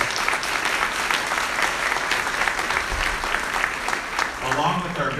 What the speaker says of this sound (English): Tim, if you can please take a stand so we can give you a round of applause.